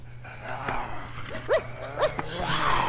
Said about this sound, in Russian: это собака и хозяин собаки